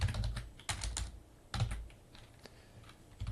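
Typing on a computer keyboard while writing JavaScript in VS Code, with clusters of quick close keystrokes separated by short pauses, fairly loud and with no talking.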